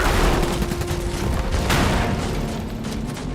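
Sustained suppressive machine-gun fire in the strategy game Iron Harvest, a dense, loud rattle of rapid shots with booms mixed in, continuous throughout under the din of battle.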